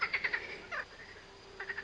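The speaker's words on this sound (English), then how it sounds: "These are French frogs having a merry old croak." French frogs croak in quick repeated bursts, fairly close and clear, then fall quiet briefly before starting another run of croaks.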